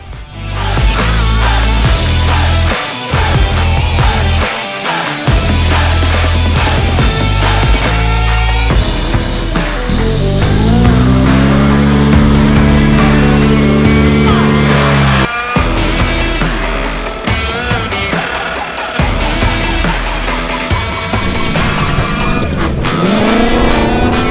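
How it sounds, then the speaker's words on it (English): Side-by-side pro class off-road race cars roar past at the Bencubbin 2022 event, loud continuous engine drone with rising and falling revs, gear changes and brief tyre noise as vehicles pass close by. "with the side-by-side pro class putting on some particularly close racing"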